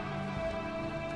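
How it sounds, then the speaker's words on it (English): Rain falls in RimWorld as a steady, even hiss of drops that carries unchanged under a low game-music hum. "it's raining, actually"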